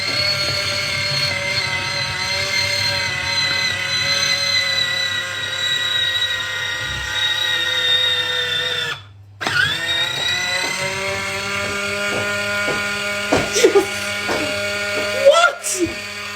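A portable mini fruit juicer juices an orange half with a steady high-pitched motor whine that runs continuously, breaks off briefly midway, then resumes, while a person talks over it.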